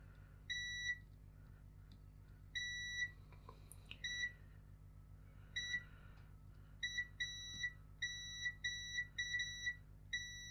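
A multimeter on continuity test gives short, high electronic beeps in irregular bursts, some single, some quick clusters, while probing a dead Nintendo Switch Lite circuit board with a mangled charging port, faint and close in a quiet room.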